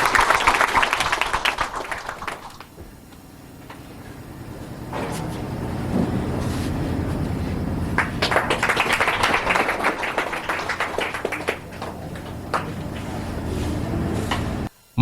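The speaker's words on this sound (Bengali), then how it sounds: "এটা জোরদার একটা হাততালি দিয়ে উৎসাহিত করার লাগে সবাই" An audience at a results ceremony breaks into loud, sustained applause, a dense wash of clapping that dips briefly and then surges again for many seconds.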